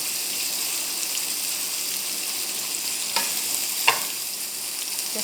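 Butter garlic shrimp fry steadily in a pan, a constant close sizzle with two brief spatters or stirring clinks rising above it.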